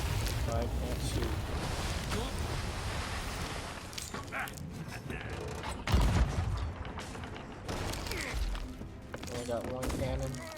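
Cannon fire from a pirate ship in the Sea of Thieves video game, with a loud boom near the six-second mark over a dense, continuous background of sea, wind and game noise, while a person talks through it.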